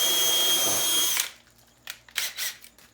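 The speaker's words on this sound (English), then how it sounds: "So I'm going to drill my first hole." A power drill bores through a headboard in a loud, whining burst about a second long, then cuts off, followed by a few short scraping and clattering handling noises.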